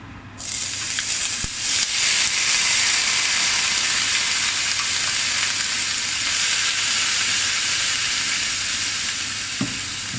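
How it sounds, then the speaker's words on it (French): Bell peppers frying in heated rapeseed oil for a minced-meat shawarma, a steady close sizzle and crackle that holds for the whole stretch, with a brief clatter near the start and another toward the end. "j'ai chauffé un peu l'huile de colza. Donc je vais mettre mes poivrons."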